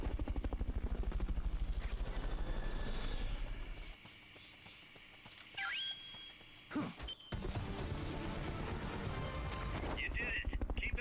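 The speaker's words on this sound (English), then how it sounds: "Fulton recovery helicopter is complete." Fulton recovery helicopter in Metal Gear Solid: Peace Walker: a rapid rotor chop throbs steadily, drops away amid a few game effects midway, then returns just as strong and continuous.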